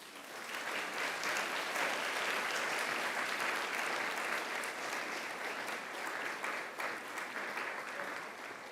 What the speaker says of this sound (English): turn around and face your family and friends and give them a big round of applause